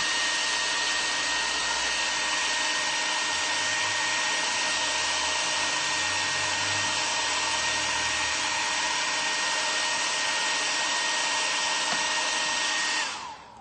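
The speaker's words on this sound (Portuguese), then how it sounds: "a gente pode dar uma secadinha com o secador, que daí dá uma aquecida" A hair dryer blows steadily at close range, heating and setting napkin decoupage on an MDF piece; it is loud and constant with a whining tone and cuts off at the end.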